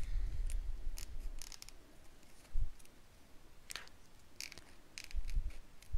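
Scissors cut out a stamped image on paper, a series of close, crisp snips arriving in irregular clusters with short pauses between, quiet and alone with soft handling rustle underneath.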